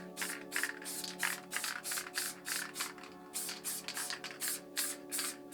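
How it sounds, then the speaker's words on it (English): A can of Montana Black spray paint fires over a stencil sheet in a rapid series of short, close hissing bursts separated by brief pauses, with no talking. "So now I'm going to get the black and fill the rest of the sheet in black."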